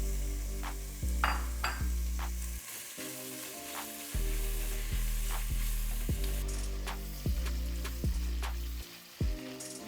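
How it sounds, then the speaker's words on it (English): Bacon sizzles and fries in a hot pot on medium heat in plenty of grease, a steady close crackle with occasional stirring or utensil knocks; no talking. "Once the pot is hot, we're gonna add the bacon and we're gonna fry it."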